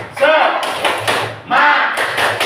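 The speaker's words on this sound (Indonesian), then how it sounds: "Ayo, tepuk semangat." A school class performs a rhythmic spirit clap in patterned bursts of clapping, with children's voices chanting loudly along with the beat.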